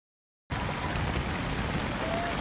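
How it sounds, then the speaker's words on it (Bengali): Heavy rain pours down steadily after a sudden start, a dense, loud, continuous hiss of water on surfaces with no voices. "এইরকমভাবে বৃষ্টির যে আওয়াজটা, এটা কিন্তু আমার ভীষণ ভালো লাগে"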